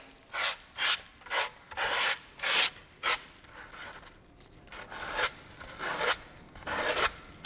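A rasp works back and forth over a handmade wooden heart sculpture, a series of close, dry scraping strokes in a steady rhythm, followed by softer, continuous rubbing.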